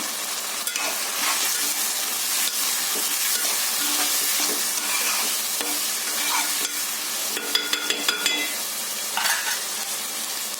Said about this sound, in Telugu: కర్రీకి సరిపడా సాల్ట్ వేసుకొని కలుపుకున్నాను